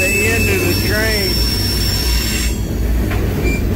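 A CSX freight train heard from on board: a loud, continuous roll and rumble of wheels on rails, with high metallic squeals wavering over it and a voice talking.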